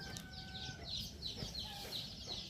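Wild chickens clucking close by, a short burst of several quick, scratchy clucks and calls overlapping one another.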